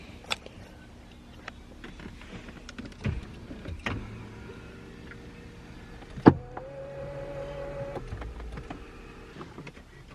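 A motorized garage door closes after a drive home in Las Vegas; a click sets off a steady electric motor hum lasting a couple of seconds before it stops, over quiet background rustling.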